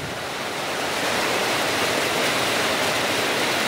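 Heavy rain pours down in a steady, loud, hissing roar that builds slightly and then holds, with no voices heard over it.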